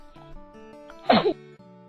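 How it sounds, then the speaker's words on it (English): A single sharp human sneeze bursts out loudly midway over soft background music, short and alone. "Sneeze,"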